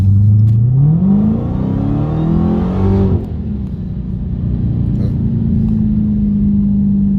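A supercharged Dodge Challenger Hellcat engine revs up with a rising, strained whine, then drops sharply and settles into a steady hum, loud and close.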